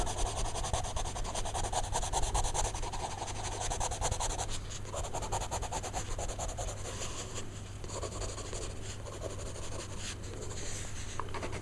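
Pencil or graphite being blended and smoothed across paper while shading a skeleton warrior Halloween mask drawing, a steady close soft rubbing and scratching texture that continues evenly throughout, with no talking.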